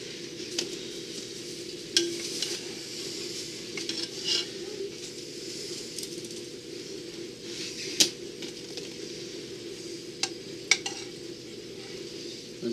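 Potatoes are frying in a deep fryer, giving a steady soft bubbling hiss with occasional sharp metallic clinks and scrapes from basket or utensils.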